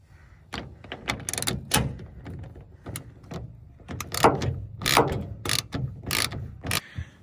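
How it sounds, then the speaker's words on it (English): A 9/16 ratchet tightens the bolts of a tonneau cover on a 2026 Chevy Silverado truck bed, giving repeated close bursts of quick metallic clicking with short pauses between strokes. "we got our 9/16, and that's what we need to tighten these bolts down"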